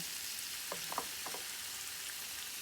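Squid grilling on a campsite grill in Norway makes a steady, soft sizzling hiss, with a few faint pops and ticks near the middle. No one speaks.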